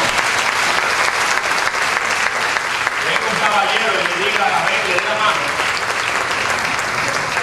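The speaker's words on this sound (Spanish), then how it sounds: "Y yo quiero que la iglesia dé un aplauso a nuestros hermanos" A church congregation applauds visiting brothers and sisters during a pastor's sermon. The clapping is loud, continuous and crowded, with a few voices heard beneath it.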